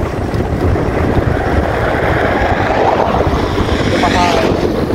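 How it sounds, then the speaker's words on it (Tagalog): Strong wind buffets the microphone outdoors along a road, a steady broadband roar that stays loud and unbroken throughout with no clear speech over it. "mahangin lang medyo"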